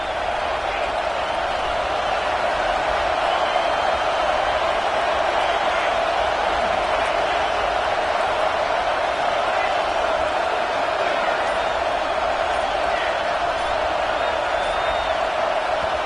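Loud, continuous stadium crowd roar at a college football game, a steady wash of noise that never lets up, with faint commentary underneath.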